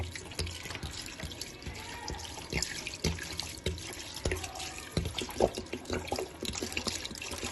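About 1.5 litres of water splashes and trickles into a cooking pot for chicken soup in uneven pours, with clinks and drips, fairly close and moderately loud.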